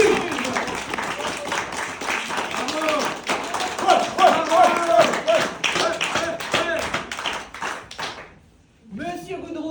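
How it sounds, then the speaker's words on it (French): Scattered applause with sharp, uneven claps comes from a theatre audience during a stage performance, mixed with voices. It breaks off into a brief silence before the talking resumes. "Applaudissons le spectateur 46. Oh, applaudissons! Applaudissez!"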